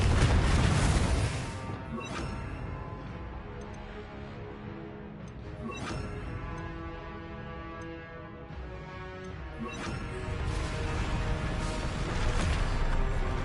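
Confringo explosion spell cast in Hogwarts Legacy, loud crashing bursts and booms recurring every few seconds, each trailing into ringing magical tones and ambient game noise.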